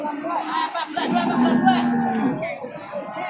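Ongole-type cattle from Central Java moo in long, low, drawn-out calls at a cattle market in Tuban, East Java, with murmuring voices and a busy crowd in the background.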